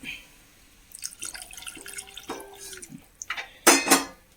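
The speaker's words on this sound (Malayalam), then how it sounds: "കുറച്ചും കൂടി വെള്ളം ഒഴിച്ചു കൊടുക്കാം" Water splashes and trickles into a pan of fish chilli curry with faint clinks of cookware, ending in a louder burst of pouring.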